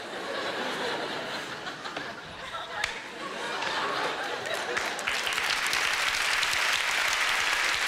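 A studio audience at a live German TV comedy show claps, the applause swelling louder and denser toward the end, with scattered chuckles mixed in.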